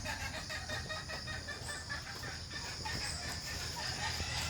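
Mike's pet chickens cluck softly while being fed, faint and continuous over a steady background hiss.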